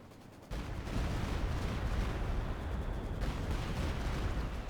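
Stuka dive-bomber airstrike explosions in the Company of Heroes 2 strategy game: a sudden heavy blast kicks in, then sustained rumbling, crackling detonation noise rolls on for several seconds.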